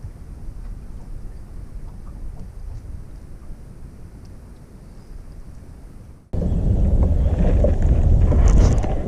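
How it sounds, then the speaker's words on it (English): Wind blowing outdoors on open water while fishing for bass from a boat, a steady low rumble buffeting the microphone that suddenly grows much louder and rougher toward the end. "We got some wind out here."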